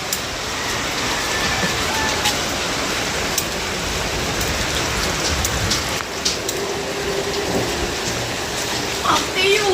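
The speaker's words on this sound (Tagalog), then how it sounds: "Naulan." Steady rain pours down outdoors, a dense continuous hiss of drops striking surfaces with occasional louder splashes, holding even throughout without a break.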